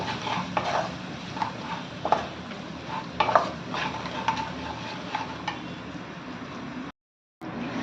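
Onion, garlic masala, coriander powder and tomato are stirred in a pan, a soft sizzle under repeated scraping and clinking strokes of a spoon against the vessel, with a brief silent gap near the end.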